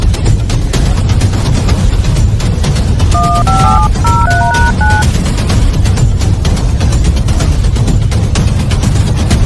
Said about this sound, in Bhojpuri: मुंशी अभय सिंह के फोन लगाओ